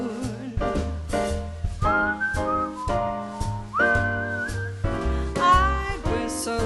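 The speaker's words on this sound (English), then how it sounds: "I'd whistle a little tune for you." A person whistles a little melody over a jazz band backing, the bright whistled line weaving over steady piano and bass chords at a lively, even pulse.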